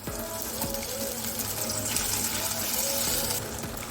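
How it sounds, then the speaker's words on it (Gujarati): Water poured into a pan of cooking pasta masala, a steady gushing pour with a hiss of liquid hitting the hot spices, continuous and close for a few seconds. "તેમાં 2 ચમચી જેટલું પાણી એડ કરીશું"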